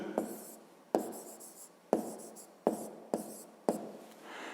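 A pen writes out a fifth-grade maths answer on paper, several short scratching strokes each starting with a sharp tap, close and quiet, with no talk.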